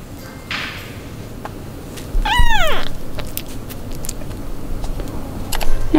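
A kitten lets out a single clear, rising-and-falling meow while being weighed, heard close up midway through, with low background rumble and handling noise around it.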